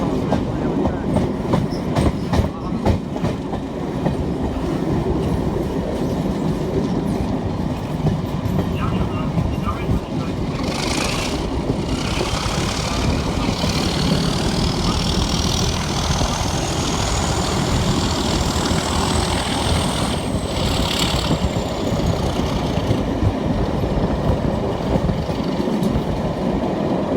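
A BR Class 37 diesel locomotive hauling a short train: loud, steady rumble and clatter of wheels over the rails throughout, with a droning engine and a rising whine partway through.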